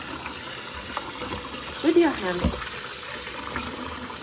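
Cold tap water runs steadily over beets as they are peeled by hand, a continuous splashing hiss with a brief louder gush midway, heard beneath a speaking voice.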